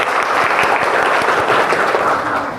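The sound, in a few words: students clapping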